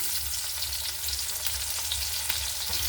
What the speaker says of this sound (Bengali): এখন প্রথমে দেবো পেঁয়াজ কুচি